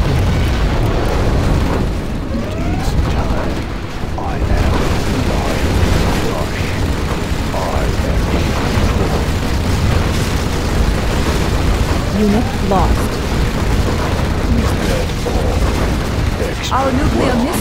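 A nuclear missile strike in C&C Zero Hour rumbles as a sustained, loud, roaring explosion with continuous booming and debris noise, while game voice announcements are heard over it.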